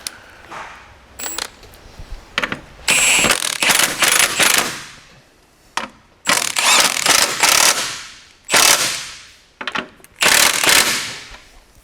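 An impact wrench fastens bolts on a John Deere 40 or 90 Series corn head during a Calmer upgrade kit install, firing in repeated loud, rattling bursts of about a second each with short pauses between.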